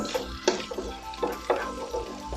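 Chopped garlic sizzles in a hot pan, bound for a salmon belly and spinach dish. A steady close fry hiss runs throughout, broken by a few sharp stirring scrapes at regular intervals.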